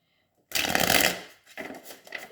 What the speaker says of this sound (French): tirer 4 cartes pour voir ce que l'oracle nous livre.